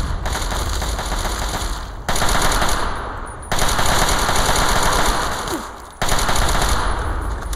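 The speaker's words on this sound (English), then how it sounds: "As long as I fire my gun all the time, I'll be fine." Relentless automatic gunfire in Fallout 3's Operation Anchorage simulation, a loud, dense stream of rapid shots broken by brief pauses into about four sustained bursts, with no talking over it.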